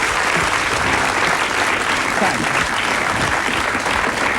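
Studio audience on a late-night Swedish talk show applauds a famous musician's arrival, a thick, steady roar of clapping from many hands throughout, with a voice faintly mixed in.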